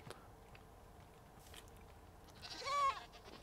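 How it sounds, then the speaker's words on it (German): A Minecraft goat gives one short wavering bleat near the end, loud against faint background sounds. "ich finde das Gemecker der Ziegen irgendwie total süß"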